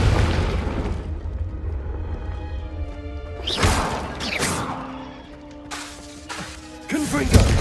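Confringo blasting spells in Hogwarts Legacy, several booming fiery explosions with crackling, whooshing tails between rumbling bursts, loud and close, with a voice in between.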